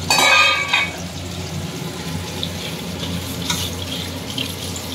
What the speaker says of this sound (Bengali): হলুদ মাখা কলা তো ভালো করে ধুয়ে নিই